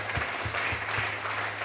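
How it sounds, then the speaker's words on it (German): Audience applause at a live show rings out as a steady, dense wash of clapping, fairly loud and continuous for the whole stretch, with a faint low hum beneath it. "Herzlichen Applaus, ja."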